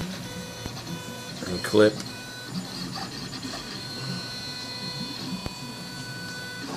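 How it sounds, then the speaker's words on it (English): A 3D printer runs under OctoPrint remote control from a Raspberry Pi, giving a steady mechanical hum with faint stepper whine and one brief louder pulse, while someone talks over it. "So there's the printer."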